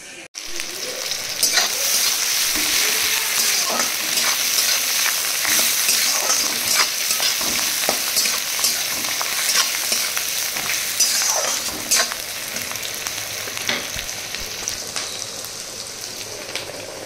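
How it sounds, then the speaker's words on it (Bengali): Potatoes fry with spices in a pan, a continuous loud close sizzle with crackles and occasional stirring scrapes, steady throughout with no talking. "এখানে আলুগুলো ভাজবো।"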